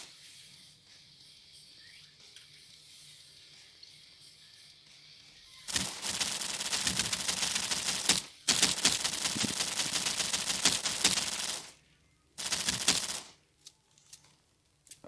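Assault rifle fire in a shooting video game follows a quiet stretch, with rapid sustained bursts: two long volleys and then a shorter one, loud and close.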